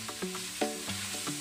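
Mushrooms go into a pan of frying ground meat for carbonara, giving a steady, close sizzle with a few scraping stirs and clinks of a utensil against the pan.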